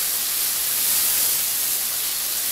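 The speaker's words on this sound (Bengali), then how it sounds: "এবার দিয়ে দিচ্ছি সামান্য একটু জল, যাতে মশলাটা পুড়ে না যায়।" A splash of water hits spice paste frying in a pan for a soya bean kofta curry. It sets off a loud, steady, close-up hiss that fills the whole moment without easing, and no voices are heard.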